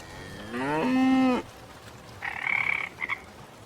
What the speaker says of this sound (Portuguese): De vez em quando, ouvia-se o piar de uma coruja, o mugido de um boi e o coachar de um sapo.